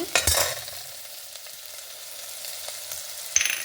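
Cumin seeds hit hot oil with a sharp burst of sizzling, then a steady low frying hiss follows, with a second crackling flare at the end.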